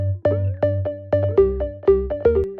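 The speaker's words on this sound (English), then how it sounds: "The first one, slap delay, my absolute favorite delay style." A synth preset plays a short melodic house-style phrase through a slap delay, with plucky notes each followed by quick echoes, a bright and close sound that fills under three seconds without speech.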